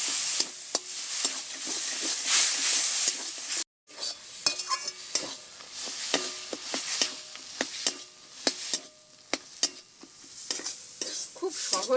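Cooked sour spinach stirred in a hot pan, quick scraping and clinking of a spatula over a light sizzle, with a short silent break early on.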